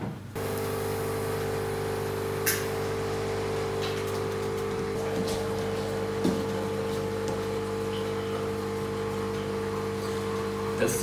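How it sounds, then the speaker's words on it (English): A home coffee machine runs with a steady mechanical hum and drone throughout, with a few faint clicks and knocks on top and no talking. "That's the sound of our coffee machine."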